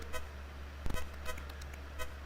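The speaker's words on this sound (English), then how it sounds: "Who's honking me?" A car horn in a 1986 Commodore 64 video game gives several short electronic toots, spaced irregularly over a steady buzzing hum.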